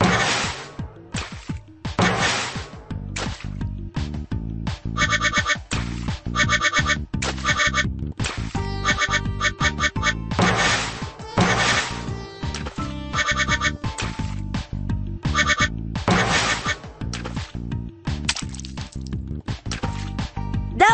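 Cartoon rubber-duck quacks and squeaky, bubbly effects pop repeatedly over bouncy music in a Bubble Guppies duck-collecting game, a busy, rhythmic stream of short bursts.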